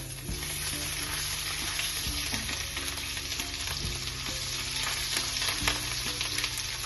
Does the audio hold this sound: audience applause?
no